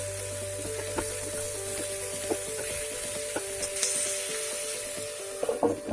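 Raw green papaya dry sabzi, salted, slowly roasting in a pan over low heat, with a soft continuous sizzle and occasional light stirring scrapes, fairly quiet and without speech.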